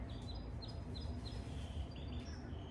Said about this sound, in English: That's a song, a bird singing.